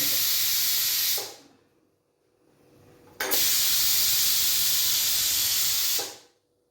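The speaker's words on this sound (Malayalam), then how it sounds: "കുക്കറിൻ്റെ കാറ്റ് കളഞ്ഞെടുക്കാം" Pressure cooker holding avial vegetables venting steam in two long loud hissing bursts, the first about a second long and the second a sustained three-second blast, separated by a short quiet gap.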